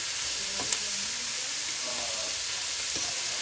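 Jalapeno and vegetables sautéing in a pan for chicken curry, a soft, even sizzle with faint hiss, one light click and occasional quiet stirring scrapes, fairly low in level and continuous.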